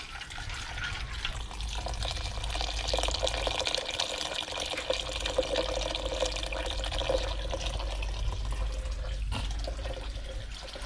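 Water pours steadily into a pot of white corn kernels and slaked lime for boiling, a continuous rushing splash with a low gurgle, close and unbroken for several seconds.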